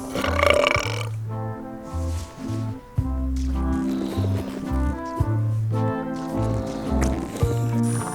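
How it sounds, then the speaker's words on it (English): Exaggerated cartoonish burps from a burping contest in the pirate adventure game Return to Monkey Island, several long, loud, croaking belches in a row with short gaps, over a soft game background. "how about a burping contest?"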